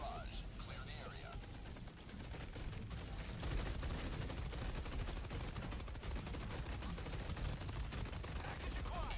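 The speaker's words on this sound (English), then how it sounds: "Firing orbital barrage." An orbital barrage strike in Helldivers 2 roars as a continuous dense wall of blasts and gunfire, rumbling for several seconds with a voice faintly underneath.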